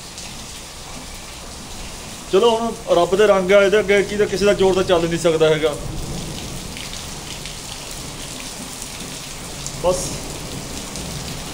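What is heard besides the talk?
rain falling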